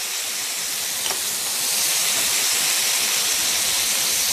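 Ghee sizzles steadily on a hot griddle with scallops, a close, continuous frying hiss that swells slightly louder partway through, with no talking.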